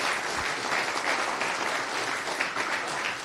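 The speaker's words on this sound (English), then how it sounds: "So a warm round of applause to Vindel and Shin." Steady, dense applause from a conference audience welcoming two speakers before a talk on RustPython, a continuous wash of clapping throughout with no pauses.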